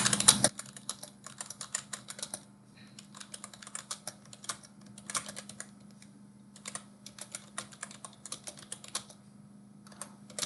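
Soft, rapid clicks of keys being typed on a computer keyboard come in bursts with short pauses, fairly quiet and close.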